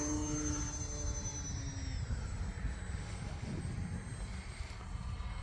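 A light airplane on approach for a touch-and-go landing, its engine drone steady and fairly loud throughout, with a descending whine early on and no talking.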